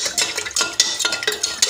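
A spoon stirs sugar, black salt and lemon juice together in a glass for a cucumber soda drink, making quick rhythmic clinks and swishes about every fifth of a second, close and bright, with no talking.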